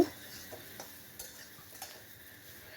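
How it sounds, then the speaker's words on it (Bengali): Soya chunks (nutrela) coated with turmeric being stirred and fried in a pan, with a faint steady sizzle under light scraping taps of a spatula at irregular intervals, quiet and close. "হলুদ দিয়ে দেওয়ার পরে নিউট্রিলাটা খুব ভালো করে ভেজে নিতে হবে"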